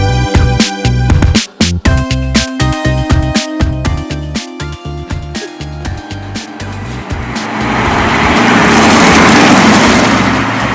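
A car driving over a rough, stony road, with loud thumps and rattles from the suspension and body, then a steady rushing roar of tyres and wind as it picks up speed.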